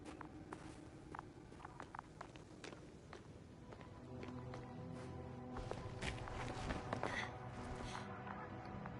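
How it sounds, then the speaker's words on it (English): Soft footsteps in The Invincible on PS5, a steady series of quiet steps in a sparse, echoey space, with faint tones and an ambient hum swelling slightly later on. "His footsteps"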